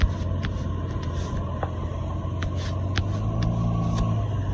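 A convoy of cars driving through the Alps, a steady low rumble of engines and tires with a swelling pass-by roar and faint clicks above it.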